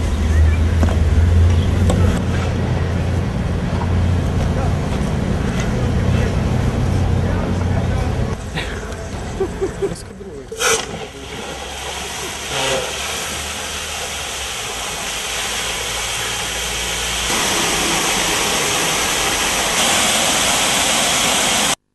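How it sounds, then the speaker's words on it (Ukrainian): A fire engine is filled from a standpipe set on a city fire hydrant in Vinnytsia, Ukraine, and water rushes in a steady loud roar, with a deep rumble early on, a few clanks midway and a continuous broadband hiss. "Зараз ми встановлюємо пожежну колонку на пожежний гідрант для заправки пожежного автомобіля."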